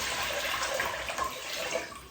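Water pours into a cooking pot to make turkey brine, a steady rushing splash that runs loud and unbroken for about two seconds with no talking.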